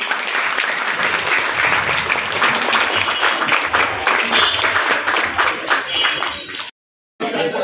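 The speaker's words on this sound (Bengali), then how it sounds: "সকলে একটু হাততালি দিন" An audience claps steadily and densely at a municipal event where bicycles are handed out to students, the applause loud and close and continuing for several seconds before a brief cut.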